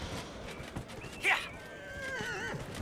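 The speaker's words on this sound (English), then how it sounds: "Old horsey, run through all the busted buildings" A horse gallops in Dragon Age: Inquisition with rapid hoofbeats, and one short whinny cuts through the middle. A voice talks over it.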